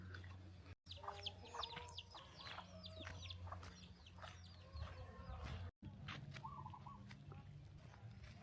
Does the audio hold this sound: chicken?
yes